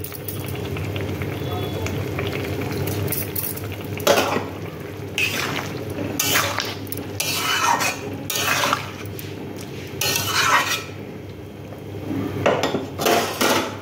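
A lid is set back onto a cooking pot on the stove while a Bengali dish of taro and pui shak simmers nearby. Several sharp metallic clanks and rattles stand out against steady low kitchen hum.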